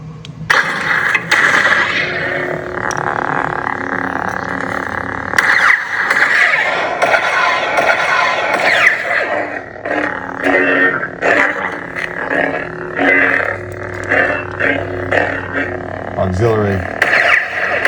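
A Starkiller Neopixel lightsaber with a Proffie board ignites repeatedly with sharp rising whooshes and buzzing hums, several bursts spread across the stretch, loud and close, with a voice talking over parts of it.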